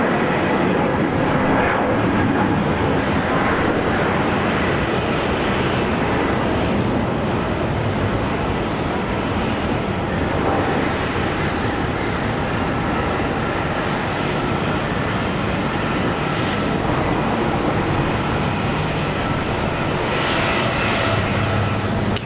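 An airplane landing on runway 19 left at Brisbane Airport gives a loud, steady jet engine roar that holds evenly throughout, with no voices over it.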